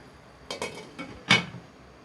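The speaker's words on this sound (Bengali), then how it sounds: "এবার আমরা এটাকে ঢেকে দেবো গাইস।" A metal lid set onto a pot of cooking homemade noodles, giving a few light clinks and a sharper clatter near the end, close and fairly quiet with no talking.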